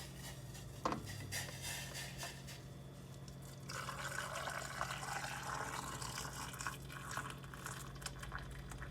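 Pickling liquid poured into a jar of eggs, a soft, steady trickling fill with faint splashing that rises in intensity midway and continues evenly to the end, quiet and close.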